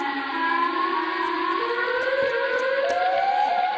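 A loud, continuous wailing siren with slowly rising and falling pitch, sustained throughout with no talking.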